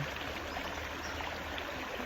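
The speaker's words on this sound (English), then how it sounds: "I'm sitting with the river" A flowing river gives a faint, steady watery rush, continuous and even with a soft burbling texture and nothing else standing out.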